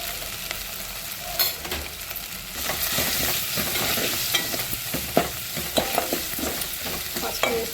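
Ginger-garlic paste fries with turmeric in a pan, a continuous close sizzle broken by repeated scraping and clicking strokes of a spoon stirring, no voices.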